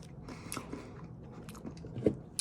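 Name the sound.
biting and chewing crunchy salty chips, ASMR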